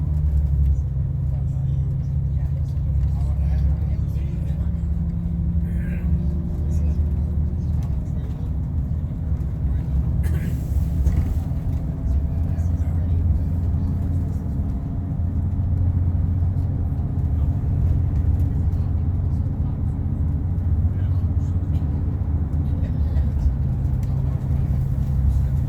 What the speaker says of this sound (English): that is the full power of my bus going uphill